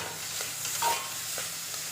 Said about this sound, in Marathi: खरपूस भाजून घ्यायचं आहे आलं लसूण कोथिंबीर याची पेस्ट आहे बघा ही